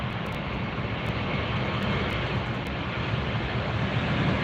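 A Delta airliner takes off at LAX, a steady, distant roar of jet engines holding at an even level throughout, with no talking.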